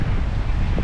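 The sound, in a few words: strong wind at Orange Beach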